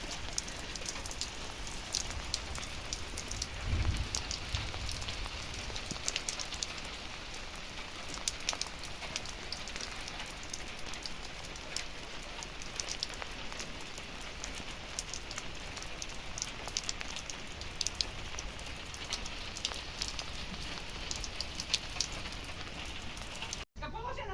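Rain falls steadily outdoors after thunder, a soft, even patter and hiss of drops on surfaces that carries on quietly and unbroken throughout.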